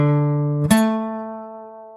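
A perfect fifth played as two separate pitched notes, one sustained low tone followed by a clear attack and a higher ringing note that decays slowly, alone with no voices.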